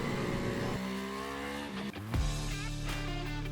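A QJMotor cruiser motorcycle engine under way, loud and close, rumbling through rising and falling revs with a sharp shift or throttle blip midway, then settling into a deep steady drone.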